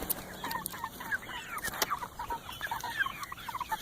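Chickens recently banded and cut cluck steadily in a farmyard, several birds producing overlapping soft clucks and short calls at close range, with no talking.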